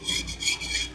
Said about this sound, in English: Just very, very lightly scraping that off.